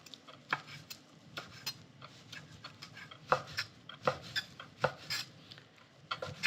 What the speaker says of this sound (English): And we'll cut these in rings.